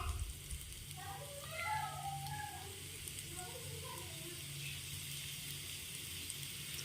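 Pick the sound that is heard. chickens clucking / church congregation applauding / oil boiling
oil boiling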